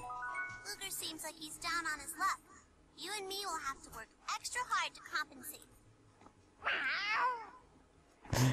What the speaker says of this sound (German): Warum die Katze?